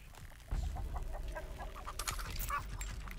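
A chicken clucks in a video game, a run of short repeated clucks over a busy in-game background, moderately close with some sharper clicks near the end.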